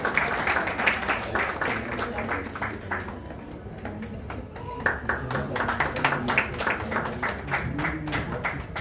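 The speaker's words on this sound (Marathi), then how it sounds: "आपण त्यांचा टाळ्या वाजवून सुद्धा स्वागत करायचं आहे" Audience clapping to welcome a guest being honoured at a Marathi felicitation event for a teacher's 75th birthday celebration, steady dense applause filling the room with voices audible underneath throughout.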